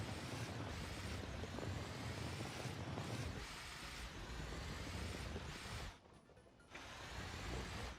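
Truck engine droning steadily in the video game Workers & Resources Soviet Republic, a dense continuous rumble with a brief dip partway through and no talking.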